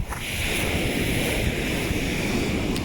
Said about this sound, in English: waves coming in here. Lovely sound of the sea